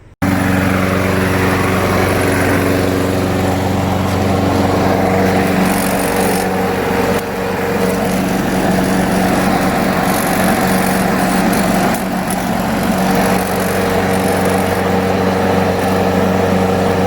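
A repaired walk-behind lawnmower engine, freshly serviced with new oil and a cleaned carburetor, runs loud and steady close up for the whole stretch, a constant droning hum with slight wavering and no voices.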